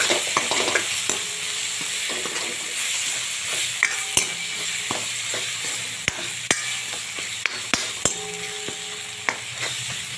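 Ground turmeric, red chilli powder and coriander-cumin powder frying in oil for dal, stirred with a spoon: a steady close sizzle with sharp scrapes and clicks against the pan, no voices.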